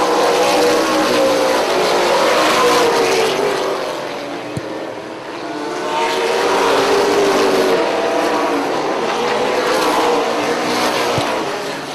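Late model stock cars roar past on an oval track during a race, a loud continuous engine drone that swells and fades as the pack passes, with faint tire noise.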